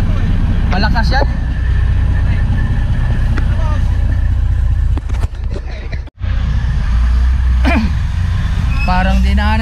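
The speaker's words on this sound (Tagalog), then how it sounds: "Malakas yung truck na to eh." A heavy truck's engine runs loud and close in a steady rumble, with a brief dip and a sharp drop around the sixth second before it carries on.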